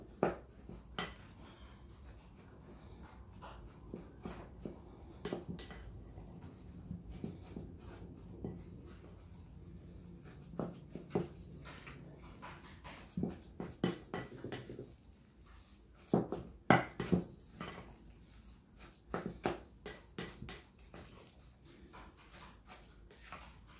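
A vegetable burger mixture is stirred with flour in a bowl, giving sparse clinks and soft knocks of utensil on dish at close range, growing busier and louder toward the end.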